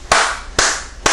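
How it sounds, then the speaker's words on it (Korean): Three sharp, loud hand claps spaced about half a second apart, each ringing briefly into a room, heard during a Korean church Sunday sermon. "박수를 치고 싶어요."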